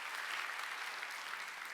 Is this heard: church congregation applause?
yes